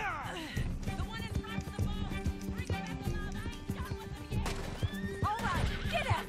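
A horse in Red Dead Redemption 2 gives a loud whinny and then a second whinny near the end, with clip-clopping hooves throughout, over layered game music and voices.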